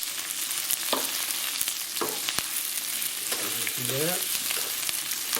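Oyster mushrooms and young ginger stir-fry in a hot pan with a constant close sizzle and occasional sharp utensil scrapes, while a voice speaks briefly over it.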